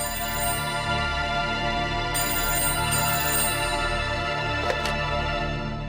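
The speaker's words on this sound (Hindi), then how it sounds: "फोन भी रात बेरात बजने लगो है" A telephone rings steadily and loudly in a home setting in a Hindi family drama, repeated electronic ring bursts continuing alone with no talk over them.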